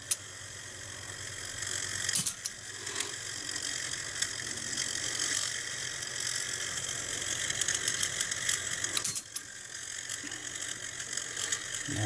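The motor of a Stellaphone ST450 reel-to-reel tape recorder, under restoration with a belt far too tight, strains and grinds with a continuous mechanical whir and ratcheting clicks, close and fairly quiet, with a couple of louder knocks.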